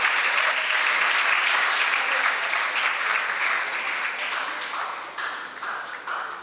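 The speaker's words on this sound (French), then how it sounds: "Merci de l'applaudir très fort, s'il vous plaît." A round-table audience gives sustained, loud applause with dense clapping that gradually thins toward the end.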